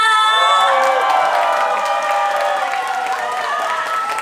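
Loud, dense cheering and applause from a large crowd of elderly fans, including an upper balcony, at a trot concert, with shouts and whoops over steady clapping throughout.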